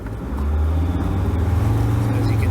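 A Mercedes Sprinter van accelerates under turbo boost with a loud, steady low engine drone, heard from inside the vehicle with no talking.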